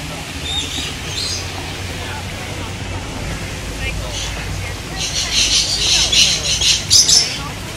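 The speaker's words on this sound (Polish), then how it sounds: "A zobacz, tam są takie różowe flamingi" Pink flamingos at a Florida bird park give short, shrill squawks in scattered bursts, strongest in the second half, over steady outdoor background noise.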